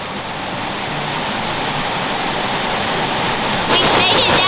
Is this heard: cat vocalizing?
no